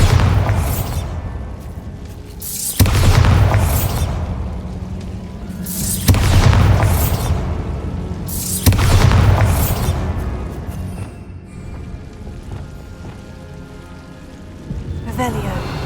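Bombarda spell explosions boom one after another in Hogwarts Legacy, several loud blasts a few seconds apart, each with a rumbling tail that fades before the next.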